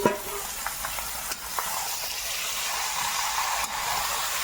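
Chicken pieces go into a pan of reddish fried potatoes, setting off a loud, dense sizzle that swells and holds, broken by a few sharp clinks of a spatula.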